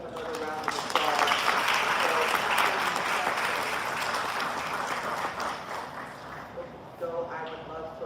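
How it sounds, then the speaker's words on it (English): An audience breaks into sustained applause, a dense crackle of many hands clapping that swells and slowly fades, with a voice speaking over it near the end. "Please give them another round of applause."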